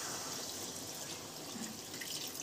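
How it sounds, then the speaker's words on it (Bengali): Water is poured into a pan of chilli chicken gravy, a soft continuous splashing and trickling heard up close for a couple of seconds with no talk. "এবার আমি এর মধ্যে জল অ্যাড করব"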